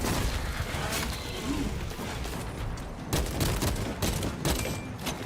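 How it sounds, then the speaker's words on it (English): Continuous gunfire in a Space Marine video game: dense rattling shots roar loud and steady throughout, with sharper bursts of fire in the latter half. "Who's up there shooting at me?"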